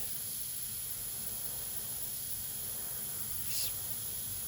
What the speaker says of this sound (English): I've got my mixture in here, and I'm going to go along, and I'm going to spray this